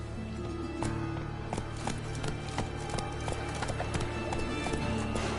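Roach the horse gallops in The Witcher 3, a rapid, steady rhythm of close hoofbeats over low background game sound.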